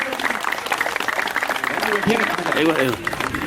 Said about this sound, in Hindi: जोरदार तालियों से स्वागत करें, तालियां बजा दिया करें।